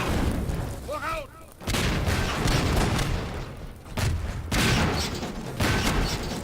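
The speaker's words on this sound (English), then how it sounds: "I was trying to avoid the explosions from killing me" Loud, dense booms and blasts from combat in the video game Half-Life 2, set in Ravenholm, come in repeated heavy bursts with a rising whine near the start, filling the whole stretch at close range.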